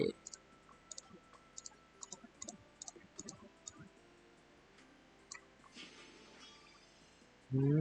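Sharp mouse clicks while upgrading a ring in Ragnarok X, arriving in quick bursts of evenly spaced taps, then a long quieter stretch and a louder noise at the very end.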